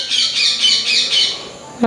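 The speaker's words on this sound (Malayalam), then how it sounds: "കിളി വീണ്ടും ചലിക്കുന്നുണ്ട്" A bird squawks over and over in a home setting in Kerala, a string of close, shrill, rhythmic calls that end with a brief louder sound.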